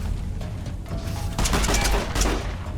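Shotgun fire in Fallout: New Vegas, a rapid burst of loud close gunshots packed tightly together, with a dense blasting stretch in the second half and no talk.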